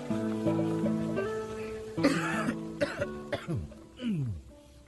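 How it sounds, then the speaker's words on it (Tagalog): A man's bad cough, several harsh, rasping bursts in a row, close and moderately loud over quiet background music. "Mukhang sama niyang ubo mo ah."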